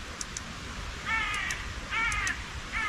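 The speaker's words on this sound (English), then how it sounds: "Fucking birds are going nuts again." Crows cawing in a dark forest at night, three harsh bursts of repeated caws at mid distance, fairly loud over a low background hiss.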